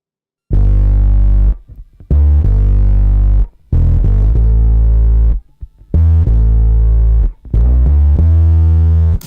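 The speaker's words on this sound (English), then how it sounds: "that distortion really kind of evens the sound out" A bass guitar with gritty fuzz distortion plays several sustained notes in separate bursts with short silences between, loud and thick.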